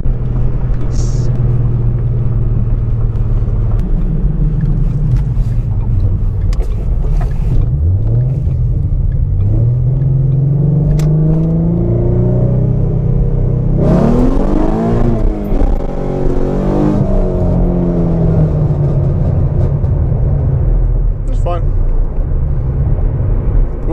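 A gasoline car engine rumbles loudly and close, rising and falling through several revs and throttle blips with a deep, throaty growl.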